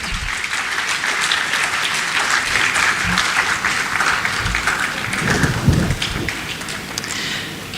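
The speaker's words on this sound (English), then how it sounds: "let's applaud them" Audience applause at a Ghana higher education summit, steady dense clapping throughout, fairly loud with a hall-like wash, a few low thumps near the end.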